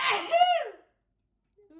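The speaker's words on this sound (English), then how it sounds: "I sneeze very loudly, I know" A single loud, explosive sneeze bursts out close by, followed by silence and then a faint voice starting to speak.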